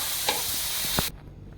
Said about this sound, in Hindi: अब हम इसमें मैरिनेटेड चिकन ऐड करेंगे और 4 to 5 मिनट हम इसको मीडियम टू लो फ्लेम पर कुक करेंगे।